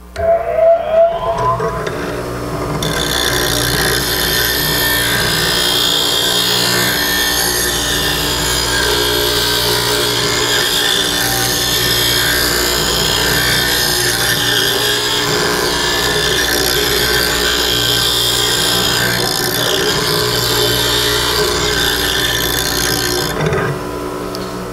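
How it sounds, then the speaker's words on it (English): A woodturning gouge has its bevel ground on a sharpening grinder, giving a continuous loud rasping whine that starts after a brief knock and runs steadily before stopping near the end. "so I'm going to grind"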